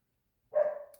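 A single dog's bark, brief and somewhat distant, coming from outside where the dogs want to be let back in, following near silence.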